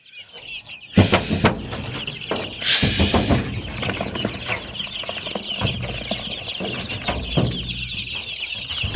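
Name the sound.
American Silkie chickens and chicks clucking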